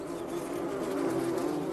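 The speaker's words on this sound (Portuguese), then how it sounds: "Não tem muitas abelhas, mas elas ainda estão por aqui." Honeybees buzz at an active garden beehive, a dense continuous droning hum heard close and fairly loud with no voices.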